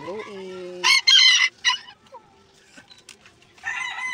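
Backyard chickens and a rooster kept as pets, with loud crowing and clucking bursts separated by quiet gaps, close by and alone.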